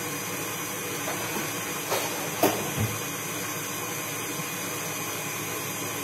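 A steady electric hand mixer whirs continuously at speed 4, beating egg whites with sugar for Easter meringues, with a few brief knocks of the beaters against the bowl.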